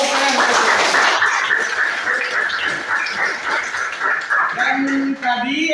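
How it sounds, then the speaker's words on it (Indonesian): A classroom of students clapping together, dense and continuous hand claps close by, with some voices mixed in and a brief dip near the end. "Tepuk tangan."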